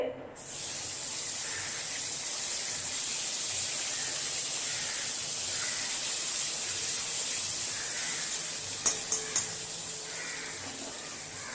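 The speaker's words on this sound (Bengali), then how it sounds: "ডিমগুলোকেও ভেজে নিলাম সোনালি করে" Eggs frying golden in hot oil with potatoes, heard as a constant close hiss and sizzle that runs the whole time, broken near the end by a few short clicks.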